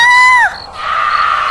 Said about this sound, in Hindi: राघव अपनी कार में बैठा ही था कि उसे अपनी पत्नी की चीख सुनाई दी।